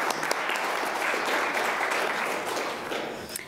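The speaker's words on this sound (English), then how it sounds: "Please join me in giving a big round of applause" Audience at a DAR Good Citizens awards ceremony applauding the student honorees, a dense, steady wash of many hands clapping for several seconds with a few sharper nearby claps.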